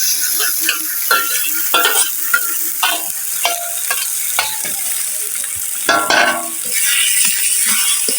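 Mashed pangas fish vorta stir-fried with browned onions in a hot, smoking pan, giving a loud continuous sizzle broken by repeated scraping and clinking strokes of a spatula against the pan.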